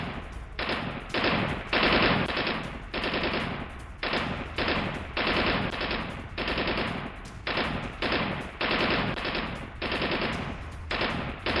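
Bursts of automatic gunfire on the Russian front line in Ukraine come in rapid, loud volleys, repeating in clustered strings with short gaps between them.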